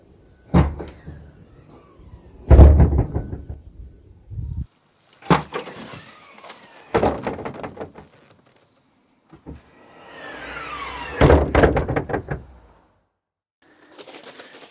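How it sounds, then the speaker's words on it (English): A Nissan Primera P12 tailgate slams open abruptly, a series of loud thuds and clunks, several separate bangs spaced a few seconds apart with quiet gaps between them, close by. "when I now open the tailgate, it fires open with such ferocity that when it stops, it slams so abruptly"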